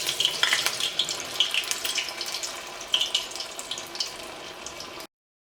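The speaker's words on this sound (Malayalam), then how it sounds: "ചൂടായ ഓയിലിലേക്ക് ഇടാം." Bread vadas dropped into hot oil, a steady close bubbling sizzle that stays fairly loud for about five seconds and then cuts off.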